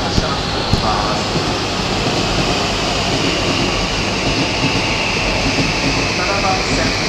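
Steady rumble of a Utsunomiya Line express train departing a platform, a continuous low mechanical drone with faint background noise, no clear departure surge, loud and close throughout.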